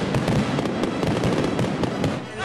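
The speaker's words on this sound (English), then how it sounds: "I think these were the best fireworks yet." Fireworks exploding at a display, a dense, continuous crackling barrage of overlapping pops and bursts at steady loudness, with no clear talk.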